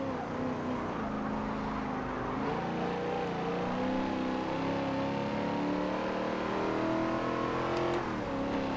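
A supercharged Chevrolet Camaro race car engine in Forza Motorsport 7 at Daytona drones and revs continuously, its pitch climbing through the gears with brief dips at shifts, steady and loud throughout.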